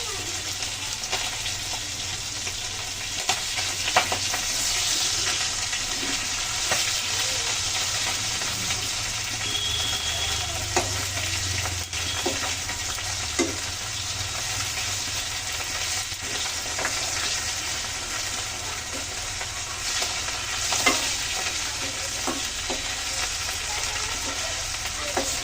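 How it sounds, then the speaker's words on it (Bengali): Fish fry in hot oil in a pan while being stirred, a steady loud sizzle lasting throughout with scraping stir strokes and occasional clatter. "মাছগুলো ভালো করে ভেজে নিয়েছি"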